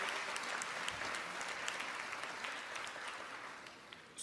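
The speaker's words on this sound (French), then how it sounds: "Vous pouvez les applaudir toutes et toutes." Steady applause from a sizable crowd at a pleading competition, a dense patter of clapping that continues throughout without voices.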